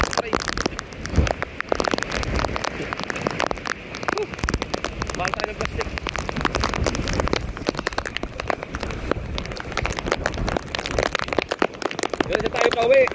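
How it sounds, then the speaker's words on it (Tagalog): Rain falls steadily with gusting wind during a storm that is tearing away a roof sheeting, a broadband hiss and patter running throughout while a person talks over it. "Hinahina na kaunti ang ulan pero ang hangin kayo pa rin."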